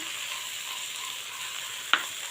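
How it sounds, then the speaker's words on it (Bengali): Steady quiet sizzle from a frying pan of papaya curry as spices go in, with one short sharp scrape or clink near the end and no talking. "এই দেখুন মশলাটা দিয়ে দিচ্ছি"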